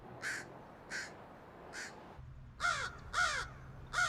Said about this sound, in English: Scientists have identified over 250 distinct crow calls.